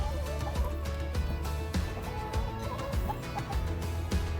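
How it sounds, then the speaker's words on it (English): Backyard chickens in a coop cluck and gobble continuously, several birds calling close by in overlapping bursts, with no speech. "Come on, chickens."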